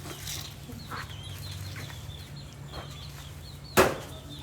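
Chickens clucking near an elephant, a few soft intermittent clucks over a low steady hum, with one sharp louder sound near the end.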